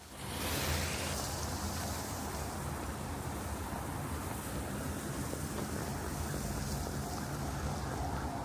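Water rushes between snow-covered rocks beside a forest path, a steady broadband roar that stays loud and continuous throughout, with wind noise over the microphone and no talk.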